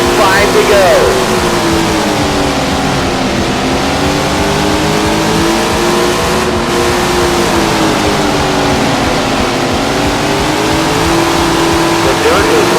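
Sprint car engines roar and whine continuously in the Tony Stewart Sprint Car racing video game during an online dirt-track race, revving up and down, loud and sustained with overlapping engine tones.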